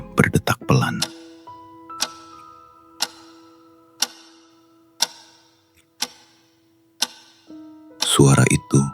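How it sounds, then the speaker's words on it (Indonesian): Wall clock in the pantry of an old hotel ticking slowly and evenly, about once a second, in a quiet room, with brief voices heard at the very start and end. "Jam dinding di pantry berdetak pelan."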